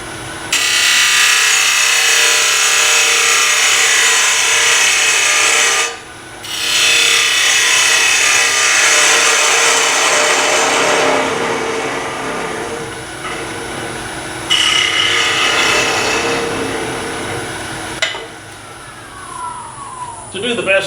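A chatter tool cuts a decorative textured pattern into a spinning wooden surface on a lathe, making a loud, close, buzzing scrape that runs in long passes with brief pauses between them.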